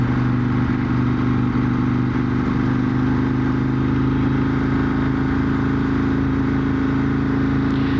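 Ducati 916 motorcycle engine idling while stationary at traffic lights, a steady close, loud mechanical hum with a faint ringing edge, holding constant throughout with no talk.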